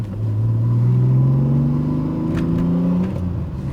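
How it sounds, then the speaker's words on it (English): An Alfa Romeo V6 revs hard up through the range in one loud, close, rising engine pull lasting about three seconds, then eases off, with no talking. "Sweet sound of V6."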